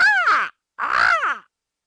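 A person vocally imitates an American crow's caw, giving two loud, harsh, drawn-out calls separated by a short pause, close and clear with nothing else beneath.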